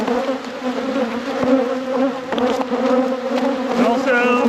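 A dense, close swarm of honeybees hums loudly and steadily around an open hive during an inspection after winter, with a few brief sharper buzzes rising near the end.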